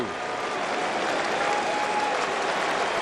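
A baseball crowd at a Rockies vs Brewers game in 2008 cheers and applauds for a new pitcher, a steady, dense roar of many voices and clapping that holds at an even level throughout.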